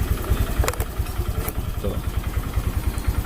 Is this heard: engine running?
yes